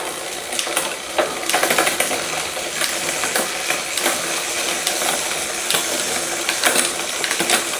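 A bicycle's rear derailleur is adjusted while the cranks turn in a workshop. Mechanical ticking and whirring from the chain and freewheel are broken by sharp clunks and clicks as the gear shifts roughly.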